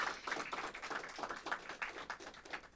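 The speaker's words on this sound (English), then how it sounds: "So can we please all give all of you a combined giant round of applause" An audience at a school media team appreciation ceremony claps for the students, a faint, quick patter of individual hand claps in uneven bursts with no talking.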